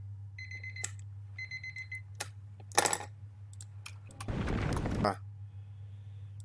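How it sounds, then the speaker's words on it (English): A repeating electronic timer alarm beeps in short, bright pulses over a steady low hum of a computer setup, with scattered keyboard clicks and a brief noisy burst mixed in. "My timer was going off"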